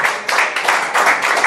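A church congregation claps together in a steady, rhythmic beat. The claps are close and loud, with a brief lull near the start before they pick up again.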